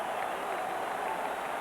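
A vast Super Bowl XXI crowd at the Rose Bowl, Broncos against Giants in 1987, gives a steady, faint roar of cheering with no distinct individual voices.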